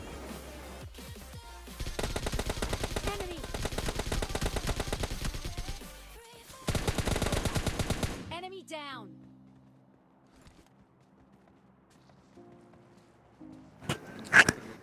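Gunfire from the PUBG Mobile Lite battle royale game, with bursts of dense rapid shots over the first eight seconds, a quieter stretch of game ambience afterward, and a couple of sharp shots near the end.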